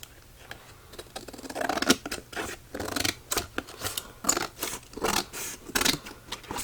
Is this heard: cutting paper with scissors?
yes